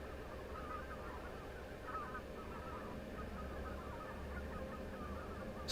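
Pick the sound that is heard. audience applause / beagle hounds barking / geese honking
geese honking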